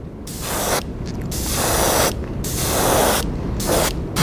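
Spray gun laying a white base coat onto a crankbait fishing lure, in several loud, close hissing bursts separated by short pauses, with no voices.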